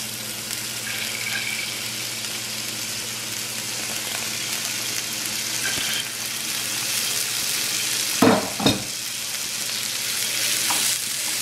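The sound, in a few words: ginger and tomatoes frying in a pan over high heat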